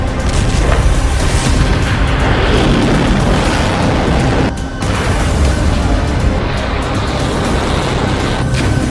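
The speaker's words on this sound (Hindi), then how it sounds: "इस धमाके का वक्त भी इजरायल ने तय किया" A loud, continuous roar from an Israeli strike explosion in Iran rumbles for several seconds, with a brief dip midway before the heavy noise resumes.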